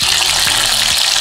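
Stinky tofu fries in a pot of hot oil, a loud, dense, continuous sizzle and crackle heard up close with no talking.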